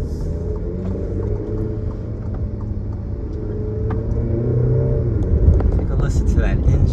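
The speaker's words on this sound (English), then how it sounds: "Take a listen to that engine." A 2022 Alfa Romeo Stelvio Sprint Q4 engine pulls under way, a steady low harmonic drone that rises and grows louder toward the end, with road rumble throughout.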